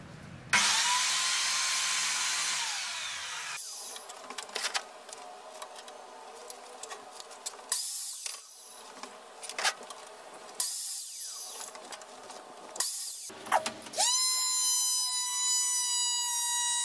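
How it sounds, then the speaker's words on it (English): A miter saw cuts wooden rods into equal pieces: a long whining spin-up and cut, then a series of short, sharp bursts separated by quiet gaps, with a final high whine as the blade spins down. "Then I set up my miter saw and cut the rods into equally sized pieces."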